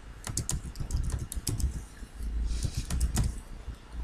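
Rapid, uneven keystrokes on a computer keyboard while a subject line is typed into a school messaging mailbox, clicking close and clear with no voices.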